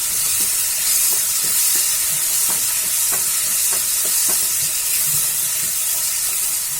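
Masala frying in a covered pan on the stove for paneer bhurji, a steady close sizzle and hiss running throughout, with a few short stirring scrapes and taps scattered across it and no talking.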